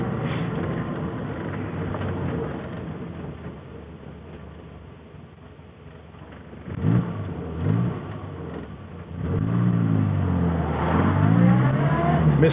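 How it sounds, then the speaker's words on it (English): A Morris Minor Traveller engine runs and pulls away, its note rising and falling through gear changes, fairly close and steady without voices. "Classic Morris Minor sound"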